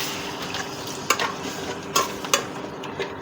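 Spiced eggplant and egg mixture sautéing in a pan while being stirred, with a steady frying sizzle broken by a few sharp scraping clicks of the spoon against the pan.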